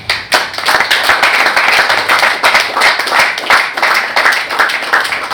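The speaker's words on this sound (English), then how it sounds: "That clap is for you." Crowd clapping at a youth and student roundtable, energetic and uneven, with sharp individual claps standing out from a fairly close, loud, continuous burst.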